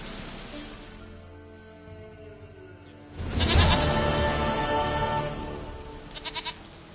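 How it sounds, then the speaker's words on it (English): A goat bleats repeatedly in The Witcher 3, loud, wavering calls standing alone over a steady hiss of game ambience, with a few short clicks near the end. "Goat of mine, dearest, sweetest goat."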